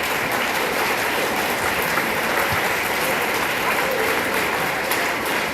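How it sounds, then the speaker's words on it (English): Audience at a school massed band concert giving a steady, dense round of applause, even and sustained throughout without pause. "Students, can you give your parents and grandparents a round of applause,"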